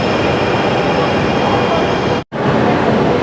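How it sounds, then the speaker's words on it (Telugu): Inside a high-speed train running at 300 km/h near Shenzhen, a loud, steady broadband rumble and rush fills the cabin, broken by one brief dropout near the end. "ఈ ట్రైన్స్ గంటగా 300 కిలోమీటర్ల స్పీడ్."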